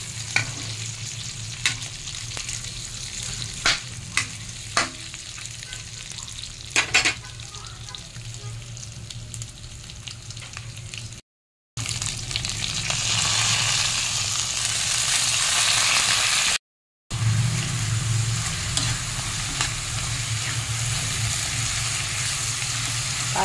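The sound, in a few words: sautéing leftover lechon kawali with sponge gourd in a pan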